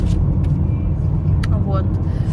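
A car drives along the road with a loud, steady low engine and road rumble inside the cabin, and a person talks over it.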